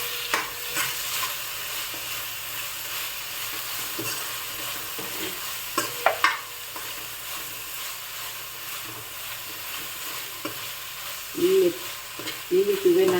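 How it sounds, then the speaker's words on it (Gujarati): Fresh green pigeon peas (lili tuvar) frying in hot oil, a steady sizzle with stirring scrapes throughout and a few louder clatters near the end. "તેલ ઉપર આવી ગયું છે એટલે આપણે લીલી તુવેર છે એડ કરી દઈશું."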